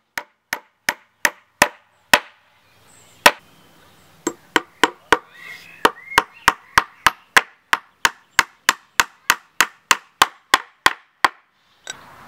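Nails being hammered into the wooden frame of a homemade swing: loud, sharp, close blows in quick regular series, a pause with faint handling noise, then a long steady run of evenly spaced strikes.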